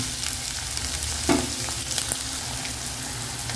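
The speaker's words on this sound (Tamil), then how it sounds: "இது கொஞ்சோண்டு வெங்காயம் வதங்கிறதுக்காக இது வதங்கட்டும் வெங்காயம்" Onions sautéing in a pan for a spicy mushroom gravy give a steady broadband sizzle, with a brief stir or scrape near the middle and no voices.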